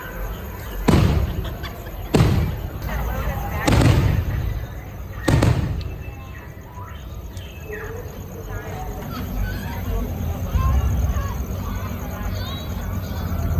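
Fireworks over Galaxy's Edge at Disneyland go off in four loud, booming bursts in the first six seconds, then fade to a steady hubbub of crowd chatter and ambient noise.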